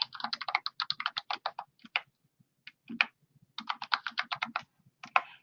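A password tapped out on a computer keyboard: a rapid run of close, crisp key clicks, a short pause with a few scattered presses, then another quick burst of typing.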